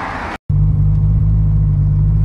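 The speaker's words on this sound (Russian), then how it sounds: "34-й ГТР на РБ-26." Nissan Skyline R34 GT-R with an RB26 engine, a loud, close, steady low idle rumble after a brief silence, with no talking over it.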